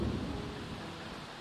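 A short stretch of rain from The Sims 4, a steady low hiss and rumble of falling water that stays even throughout, quiet and with no voices.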